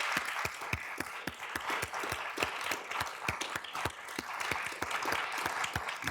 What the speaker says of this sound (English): Can we give Fanshen a round of applause?